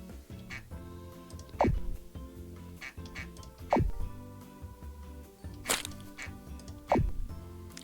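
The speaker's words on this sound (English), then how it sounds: "I didn't need to push that duck in the water, but it felt good to do it." A duck in a video game quacks as it is pushed into water, several short loud quacks spaced a second or two apart over a soft looping game soundtrack.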